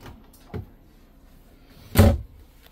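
Wooden drawers in a furnished hotel-style room are slid and shut, a soft bump followed by a louder, sharper thud about a second and a half later, close by in a quiet room.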